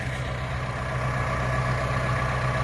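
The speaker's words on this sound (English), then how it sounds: "The tractor with the grapple." A tractor fitted with a grapple idles nearby on a muddy, frosty worksite, its engine holding a loud, steady low rumble without a break.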